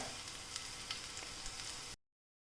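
Crushed garlic and chopped ginger fry in a pan for a bitter gourd dish, a steady close sizzle with scattered light pops that stops abruptly after about two seconds.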